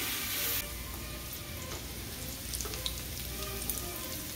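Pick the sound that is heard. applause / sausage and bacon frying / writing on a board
sausage and bacon frying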